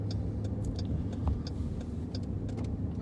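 A police patrol car drives along a city street, its engine and road noise forming a steady low rumble with faint ticking clicks inside the cabin.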